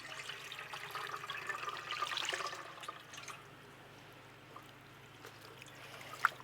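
Water is poured into a pan while making rasgulla, rinsing the lemon-curdled milk solids. The splashing pour is faint and lasts a few seconds, then gives way to quiet dripping and a small clink.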